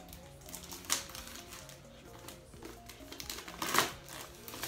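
Plastic packaging of Sony wireless headphones being opened by hand, close crinkling and rustling with sharper crackles among quieter handling noises.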